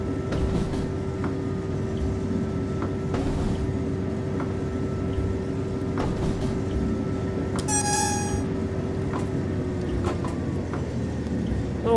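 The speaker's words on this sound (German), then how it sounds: "lassen wir den Zug mal gemütlich einrollen" A BR 628 diesel railcar in Train Sim World 3 on the Niddertalbahn rolls slowly into a station. Steady rumbling engine drone, clicks from the track, and a short horn toot near the end.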